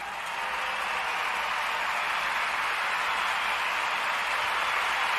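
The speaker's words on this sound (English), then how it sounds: "A round of applause, Mr. Producer." A continuous, even patter of applause, likely played in on a livestream, rises quickly and holds at a steady level for several seconds with no speech over it.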